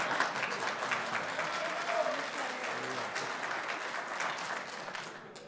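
A round of applause from attendees at a transit board meeting, steady clapping that is moderately faint and tapers off toward the end.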